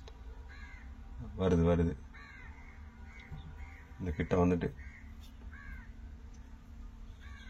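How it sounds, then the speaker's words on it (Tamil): Crows calling over a fishing boat's catch net at Malpe, a couple of loud harsh cawing bursts rising above steady boat engine hum, with someone talking through the scene. "இங்க பாருங்க, பறவைகளை பாருங்க."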